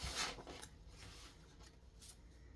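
Brisk papery riffling and flicking of tarot cards being shuffled, close and fairly soft, with short bursts of rustle.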